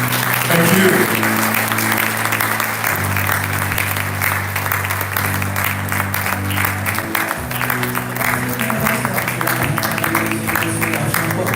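Sustained applause from an audience at an awards ceremony fills the whole stretch, steady and dense, with a low held tone of music beneath it and some voices mixed in.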